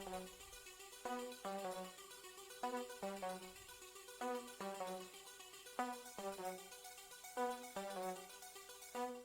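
An electronic dance beat plays alone, with punchy synth chord stabs over a deep bass pulse in a steady, repeating rhythm throughout.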